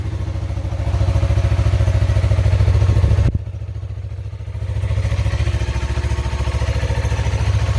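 A 2020 Yamaha MT-03 fitted with a Two Brothers Racing slip-on exhaust idles up close, giving a steady, loud, throbbing rumble that dips briefly partway through before settling back to an even beat.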